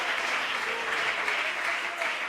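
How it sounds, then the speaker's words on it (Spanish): A church congregation claps together in a dense, continuous wash of applause, moderately loud and sustained, with voices mixed faintly underneath. "Alguien aplauda al Señor esta mañana."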